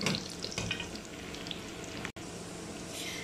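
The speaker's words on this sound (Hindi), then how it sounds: "ये मैं जो है ये गार्लिक और ज़ीरा ये भी ऐड कर दूंगी साथ ही। अब इसको मैं लाइट ब्राउन करके फिर इसका हम अब तड़का लगाते हैं।" Garlic and cumin seeds sizzle in hot oil for a tadka for moong and masoor dal, a close, steady crackling fry with a brief dropout partway through.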